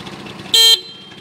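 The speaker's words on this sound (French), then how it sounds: "Appuie sur klaxon." A scooter horn gives one short, bright beep of about a quarter second, close and loud over low background noise.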